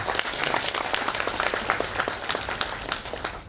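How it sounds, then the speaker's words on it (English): A lecture-hall audience at a hospital postgraduate training session breaks into steady applause, a dense wash of many hands clapping continuously at a fairly even level for several seconds. "So give him a big round of applause."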